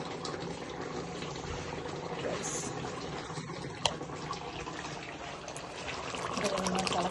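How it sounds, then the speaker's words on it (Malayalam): Liquid bubbling and boiling in a pot on an electric stove, a steady close simmering bubble with trickling textures throughout, rising slightly near the end, with a faint voice in the background. "തിളച്ച് മതിയായിട്ട് ഡ്രൈ ആകട്ടെ."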